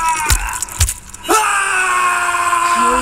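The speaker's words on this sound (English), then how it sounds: "How are you still screaming?" A fighter in the video game Mortal Kombat X lets out a long, loud wailing scream that holds steady for several seconds, preceded by sharp hits and thuds of combat.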